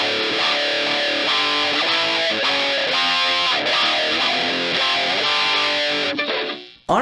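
Distorted electric guitar through a Behringer Hellbabe wah pedal, a loud run of picked notes and chords with a shifting filtered tone, cutting off abruptly just before the end.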